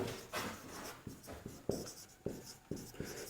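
A teacher writing on a board during a chemistry lecture on acids, bases and salts, making a quick series of sharp taps and scratching strokes at a steady pace, close and fairly loud, with no talking.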